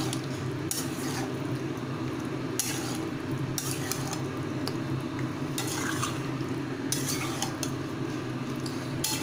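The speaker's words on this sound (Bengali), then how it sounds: "এবার ভালোভাবে নাড়াচাড়া করে মাখিয়ে দিচ্ছি।" Fried potato and pointed gourd pieces being stirred into spices in a pan, with a close scraping of the utensil against the pan in irregular strokes over a steady sizzle.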